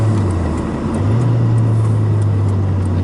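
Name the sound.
Nissan 240sx with 1JZ engine driving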